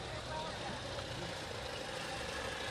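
A tractor engine idles and rumbles steadily in a Southern Maine street parade on Main Street in Saco, a continuous low drone mixed with crowd noise and voices throughout.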